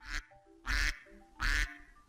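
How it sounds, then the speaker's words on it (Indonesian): A duck quacks three times in a steady rhythm, loud and close, each call a harsh nasal burst with short gaps between. "Wow, pinter, ada bebek. Bebek in English duck."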